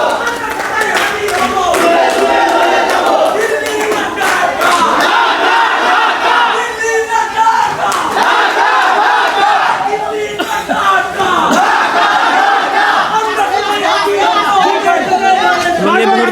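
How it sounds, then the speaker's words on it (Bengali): Large protest crowd at the July Mass Uprising memorial museum in Bangladesh chanting slogans demanding Sheikh Hasina's execution, loud, continuous rhythmic shouting of many voices close by with scattered clapping. "এখন এই মুহূর্তে শেখ হাসিনার ফাঁসির দাবিতে স্লোগান উঠেছে"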